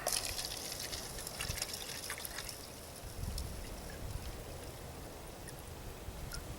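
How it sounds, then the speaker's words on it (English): Water trickles and splashes steadily into a torn-open drink powder packet from a Spanish Armed Forces combat ration, a close, continuous pour with small drips and gurgles. "So let's put some water in there."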